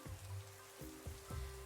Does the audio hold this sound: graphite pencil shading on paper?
no